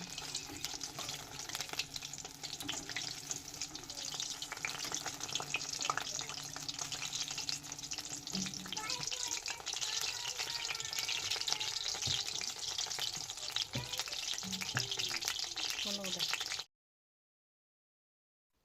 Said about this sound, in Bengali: উল্টে পাল্টে প্রত্যেকটা বকলের পকোড়া ভালোভাবে ভেজে নেব